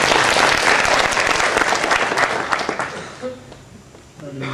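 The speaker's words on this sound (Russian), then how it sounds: "I didn't even say it, you clapped." A lecture audience bursts into loud, dense applause that fills the room for about three seconds and then dies away into quiet murmuring.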